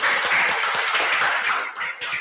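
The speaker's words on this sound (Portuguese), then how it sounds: "pode aplaudir ao Senhor" A church congregation claps together in dense, steady applause that fills the space, with a brief dip near the end before the clapping swells again; no voices come through.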